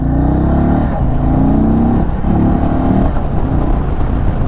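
A 2022 Indian Chief Darkhorse motorcycle riding under load, its engine droning loud and close with brief dips in pitch as it shifts gears without the clutch, then pulling up again.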